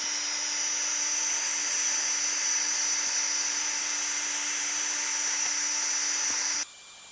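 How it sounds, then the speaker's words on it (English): A wooden mortar made from a tree trunk being power-sanded, a continuous loud high-pitched whine with a steady hum that holds for several seconds and then cuts out abruptly near the end. "So I'm just going to sand it down."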